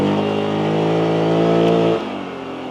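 Loncin X Wolf 550 L quad engine idling and revving steadily in low range, a close, loud, droning motor that drops in pitch abruptly as the gear changes near the end.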